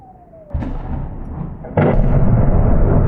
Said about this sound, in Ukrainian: Бомба рвонула не далі, ніж за 30 метрів від мене